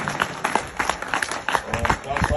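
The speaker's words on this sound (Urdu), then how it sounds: "بھرپور تالیاں" An audience at a political gathering with politicians Sayyad Saqlain Shah Bukhari and Sardar Qaisar Abbas Khan Magasi claps in a dense, fairly rhythmic burst of applause that carries on steadily through the whole stretch.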